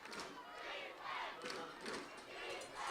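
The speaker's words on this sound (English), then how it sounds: "So the crowd is stomping their feet, clapping their hands here at Belle Chase." A high school football crowd in the stands stomps and claps, a faint, distant roar rising and falling in rhythmic surges with no clear individual sounds.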